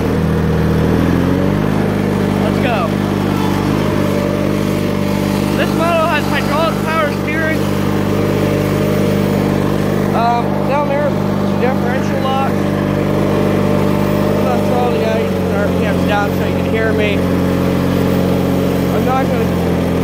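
A 1987 John Deere lawn tractor engine runs steadily and throttles up, a continuous close rumbling drone that shifts pitch early on, with a voice talking over it.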